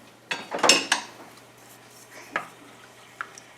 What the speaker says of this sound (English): stir this while it comes up to a boil